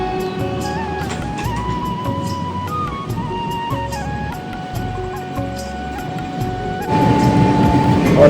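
An Indian Railways train moves along the tracks toward Purulia on a rainy day, heard from inside. The carriage gives a continuous rumble with rhythmic clatter and faint tonal whines, and it swells louder near the end.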